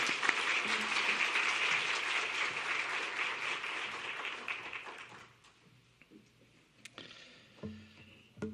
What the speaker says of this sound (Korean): 박수로 웰컴하도록 하겠습니다.